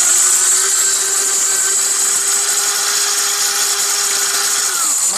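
A Morphy Richards kitchen grinder machine runs with a loud, steady motor whine and a whirring hum, close by, then begins spinning down right at the end.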